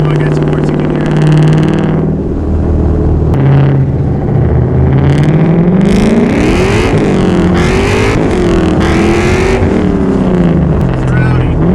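An LS-swapped Mazda Miata with a new exhaust roars loudly and continuously from inside the car as the raspy engine note sweeps up and down through the revs while driving.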